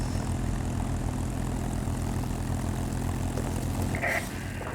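A P-40 fighter's propeller engine drones steadily and loudly throughout, a continuous near roar in World of Warplanes gameplay.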